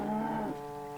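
A single Minecraft cow moo, a low droning bovine call that holds for about half a second and then trails into a quieter tonal hum, fairly soft and alone without talk.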